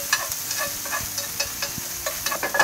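Bacon frying in a pan while being stirred and pushed around, a steady sizzle with scattered scraping clicks from a utensil, close and moderately loud with no talking.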